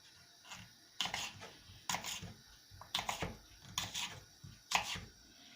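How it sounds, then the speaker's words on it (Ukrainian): A knife slices a peeled bell pepper into strips on a cutting board, making six crisp, evenly spaced chops about a second apart, close and fairly quiet with nothing else going on. "Чищений перчик буду нарізати соломкою."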